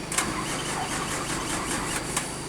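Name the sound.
bus engine stalling and restarting on a bend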